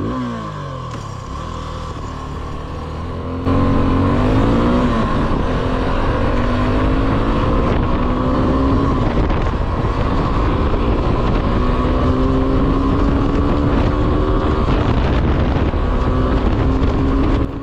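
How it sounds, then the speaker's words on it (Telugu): Suzuki V-Storm SX 250 motorcycle engine and exhaust, rising through the revs with shifting tones, then a steady loud drone once under way, heavy wind buffeting the microphone throughout. "అండ్ ఎగ్జాస్ట్ నోట్ అదిరిపోయింది."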